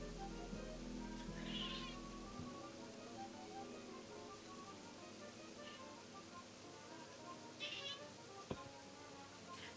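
A pet cat meows a few times at a distance in an indoor room, faint and intermittent over steady background noise and a low hum.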